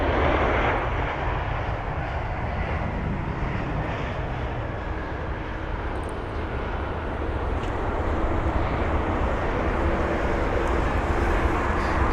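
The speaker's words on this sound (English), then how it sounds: "Now that's going to be an Airbus A350." An Airbus A350 airliner landing at London Heathrow, its engines giving a steady, loud broadband roar that stays constant throughout, with no speech.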